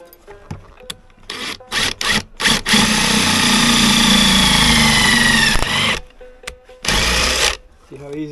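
A power drill runs steadily for about three seconds as a big bolt drills a hole while building shelf leg braces, preceded and followed by short bursts of whirring and clatter, with a voice talking in between.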